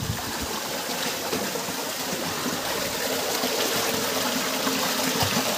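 A cold mountain stream flows past close by in a steady, bright rush of splashing and gurgling water over rocks, with no voices.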